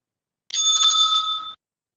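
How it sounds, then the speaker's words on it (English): A timekeeper's bell at a debate rings once, clear and bright, a single sustained tone lasting about a second before stopping abruptly in silence. "The bell will be ringing again."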